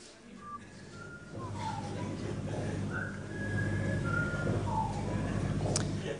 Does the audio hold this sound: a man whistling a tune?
yes